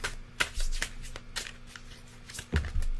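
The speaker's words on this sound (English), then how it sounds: "I'm just like shuffling here." Tarot cards being shuffled by hand close up, with a few soft riffles and card slaps spread over a few seconds in a quiet room.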